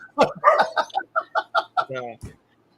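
A dog barks in a quick run of about nine sharp, close barks with a short drawn-out yelp near the end, then silence.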